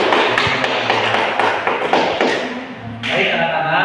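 Applause in a classroom, dense clapping from a group of students that stays loud throughout, with a brief dip before it swells again near the end.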